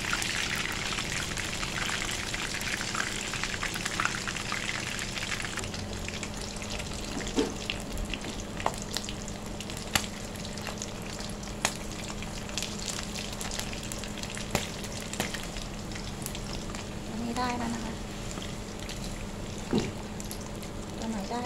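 Battered fish roe deep frying in hot oil in a home kitchen, a steady close crackle and sizzle with scattered louder pops, speech faintly present in the background.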